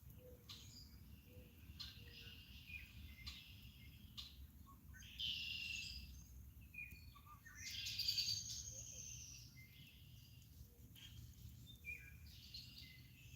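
Red-winged blackbirds call back and forth in open country near homes, brief chirps and trills rising now and then over steady insect hum and low background rumble, fairly faint and distant.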